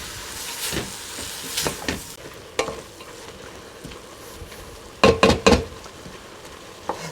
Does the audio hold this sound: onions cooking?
yes